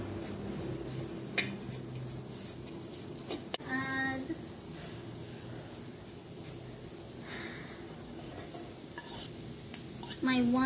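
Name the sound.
tofu vegetables frying in oil on medium heat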